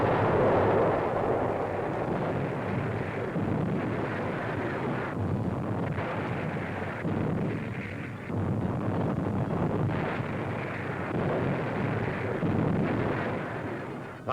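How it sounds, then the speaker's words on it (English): Allied artillery pounds enemy gun emplacements in the hills around Cassino, heard as a continuous rumbling barrage of booms and low roar on a noisy 1943 newsreel soundtrack, with no clearly separate shots. "Enemy gun emplacements on the hills around Casino are hammered without let-up"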